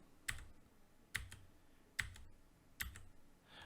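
Four crisp, evenly spaced clicks of the down arrow key on a computer keyboard, close and quiet in an otherwise silent room, about one press per second.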